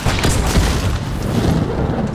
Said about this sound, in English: the explosion from the explosive ammo will damage items